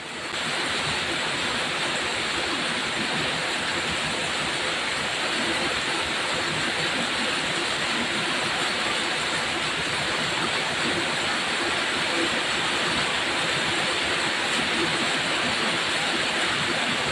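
Heavy rain pours in a dense, continuous hiss and roar, loud and steady throughout with no speech over it.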